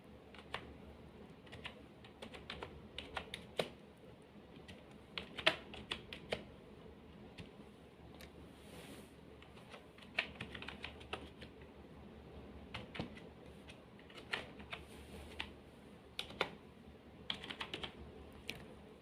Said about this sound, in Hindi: फॉर एग्ज़ाम्पल हम यहाँ पे टाइप कर देते हैं विज़न बाय कश्फबीर।